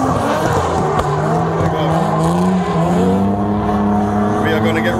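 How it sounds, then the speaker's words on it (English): Cars drifting during a daytime drift practice session, a constant loud roar of revving engines with rising and falling tones and tire squeal, heard continuously at close range. "they are still drifting"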